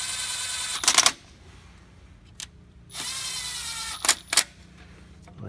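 A power tool snugs down the timing-cover bolts on a Ford 5.4L 2V Triton engine, with two sustained whirring runs and several short sharp bursts, close up and with no talking.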